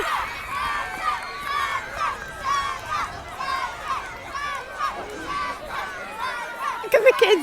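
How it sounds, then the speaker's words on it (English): A crowd of excited children and adults gathers to watch a Vietnam War veteran Huey helicopter arrive, with busy overlapping chatter, shouts and calls rising and falling throughout and a sharper burst of voices at the end. "There's quite a crowd gathered."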